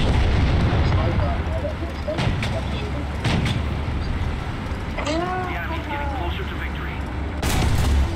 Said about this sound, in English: You're in an artillery strike, I don't want to go in until it's over